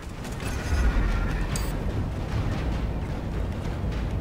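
A spaceship corvette explodes in the space combat game Strike Suit Zero, a dense, rumbling blast that swells early and then rolls on as a sustained roar.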